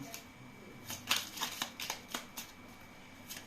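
Oracle cards shuffled by hand up close, a series of quick crisp riffling flicks and soft papery slaps in an irregular rhythm, faint room hum behind and no speech.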